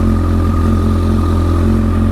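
A 2013 Kawasaki ZX14R with a Yoshimura exhaust idles steadily and close, a mellow, low, even rumble that holds without revving.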